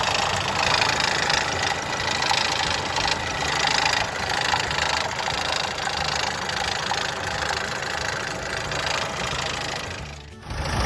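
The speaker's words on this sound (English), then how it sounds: "Rattling sound on the engine." A Vauxhall Astra 1.6 diesel engine idling with a rattle, a loud, close, steady clattering drone that runs almost unchanged for about ten seconds before a brief dip near the end.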